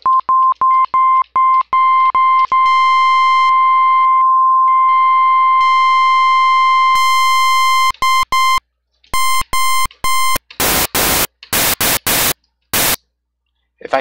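FM chiptune synth on algorithm 7, a pure sine-like beeping that begins as short repeated pulses and then a long steady tone, turning buzzy and harsh, then noisy and static-like in choppy bursts as the feedback is raised.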